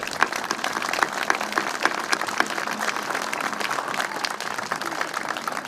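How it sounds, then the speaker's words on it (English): A crowd at an Evacuation Day event applauds teachers with steady, moderately distant clapping that runs through the whole stretch, with a few sharper individual claps standing out. "So let's give the teachers a round of applause."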